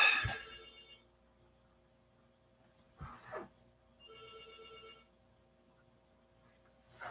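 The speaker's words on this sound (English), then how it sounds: "Somebody's phone's ringing." A mobile phone rings in short repeated electronic tones, faint and slightly distant, separated by quiet gaps with a couple of soft thumps in between.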